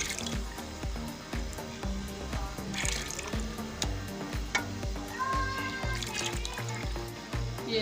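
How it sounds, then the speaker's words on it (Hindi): Whole masoor lentils are tipped into a pot of hot water, giving soft splashing and trickling water sounds over a steady rhythmic background. "पानी गर्म हो गया। अब इसमें मसूर शामिल कर रही हूँ।"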